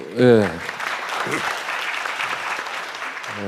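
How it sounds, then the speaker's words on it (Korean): An audience at a Seoul Digital Bio City conference on the bio industry breaks into a short burst of applause after a speech, with a voice talking briefly at the start and again at the end. "큰 박수"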